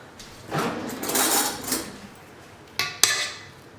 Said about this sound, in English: now I'm going to scrape the edges